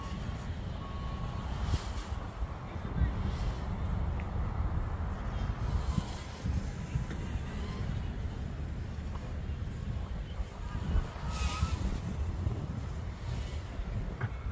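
Strong high wind buffets the microphone throughout a tri-blade drone test flight, a constant low rumbling roar with gusty surges.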